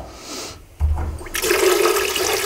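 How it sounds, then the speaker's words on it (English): Tap water pours into a dye pot for onion-skin natural dyeing. A soft clunk comes first, then a loud, steady, close gushing rush. "Now I'm going to fill each dye pot up with some tap water,"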